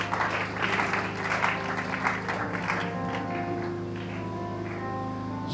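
Church congregation clapping in praise during a sermon, a dense, steady round of applause carried over a droning sustained music tone, gradually thinning toward the end.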